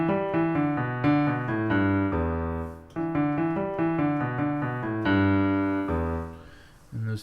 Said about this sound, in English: I'll play it on piano here, sounds like this.